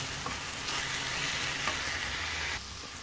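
A curry of amaranth, fenugreek and coriander leaves fries in a pan, a continuous soft sizzle with faint stirring, steady throughout and dropping slightly near the end, with no speech.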